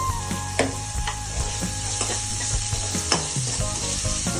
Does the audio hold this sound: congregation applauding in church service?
no